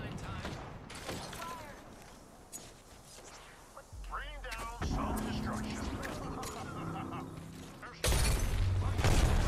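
An arc star grenade hits an enemy during an Apex Legends firefight: an electric crackle and burst over gunfire and game effects, with a player talking quietly over the action.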